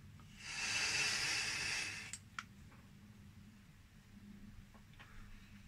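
A Lux 200 e-cigarette with a 0.16-ohm coil at 73 watts, vaping a 30 PG / 70 VG liquid, gives one long, steady hissing puff of about two seconds, fairly close, followed by quiet room noise with a few faint clicks.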